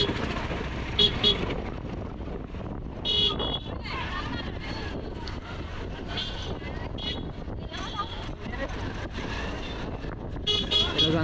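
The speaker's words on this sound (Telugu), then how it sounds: "ట్రాఫిక్ జామ్ అవుతుంది బయటగా." Busy road through a crowded Sunday market at Sunkarametta on the Araku ghat road, with repeated vehicle horn toots over a steady traffic rumble and voices talking nearby.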